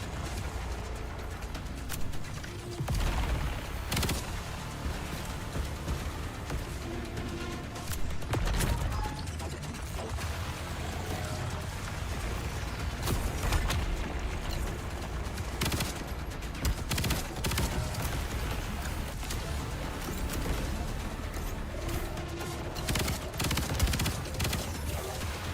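Weapons from the roguelite shooter Void/Breaker fire continuously for the whole stretch, a dense mix of rapid shots and mechanical clacks under a busy, steady game soundscape.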